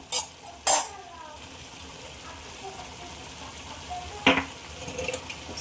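Chicken being stirred in a pot after ginger garlic paste is added, with a few sharp utensil scrapes and clinks against the pot over a faint sizzle, mostly quiet between strikes.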